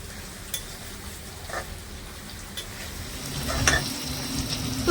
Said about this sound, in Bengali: আমি নেড়ে হালকা করে খুব সুন্দর করে ভেজে নেব